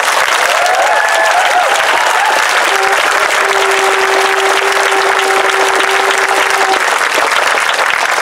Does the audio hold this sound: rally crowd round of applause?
yes